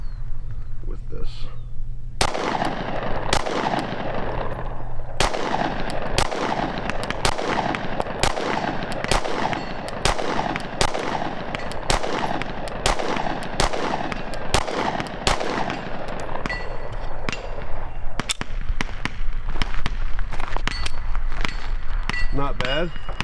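Rapid, evenly spaced gunshots from a North Forest Arms firearm with tritium night sights, fired for accuracy through a full magazine at a range; about twenty loud, sharp cracks in steady succession with brief gaps, no talking over them.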